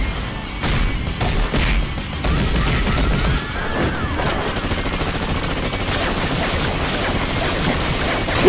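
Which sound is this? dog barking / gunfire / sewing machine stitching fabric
gunfire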